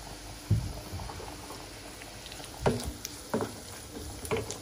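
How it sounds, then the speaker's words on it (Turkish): Dried beans and browned sucuk simmering together in a pot on a home stove, with a soft steady bubbling bed broken by a few louder close clatters and stirring sounds. "Bir 5-10 dakikada böyle kaynasın."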